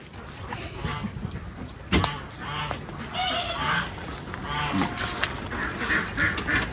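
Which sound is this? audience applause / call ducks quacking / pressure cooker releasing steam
call ducks quacking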